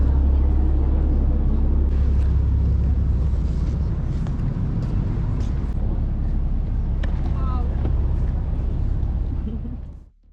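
A tour boat's engine drones steadily in a low, continuous rumble on a day trip around the Kaş and Kekova coves, with wind and people talking over it, fading out at the end.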